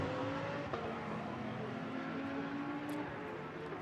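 Audi and McLaren GT race cars at the Nürburgring during a GT World Challenge Europe race, producing a steady, loud engine drone with shifting pitch throughout as the cars run close together.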